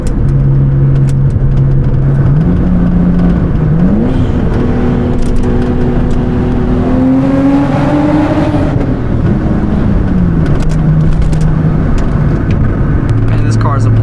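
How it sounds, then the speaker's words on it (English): Nissan R32 Skyline GTS-T with an RB20 engine and straight-pipe exhaust driving, a loud, close engine drone that rises and falls through gear changes and revs, with occasional exhaust pops and a voice under it. "Want to give you guys a short little taste of what the Skyline sounds like."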